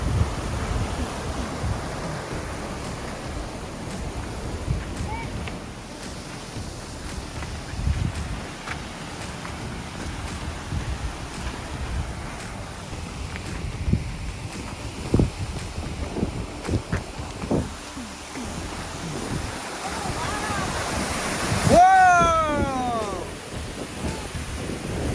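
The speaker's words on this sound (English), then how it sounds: "Now that's a waterfall." A mountain waterfall roars steadily as a broad, continuous rush of water with some wind buffeting the microphone, and a person exclaims near the end.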